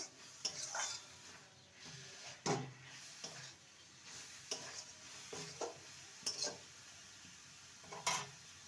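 A spoon stirs bottle gourd curry in a pan, giving intermittent scraping knocks against the metal every second or so over a faint sizzle, fairly quiet and close, with no voices.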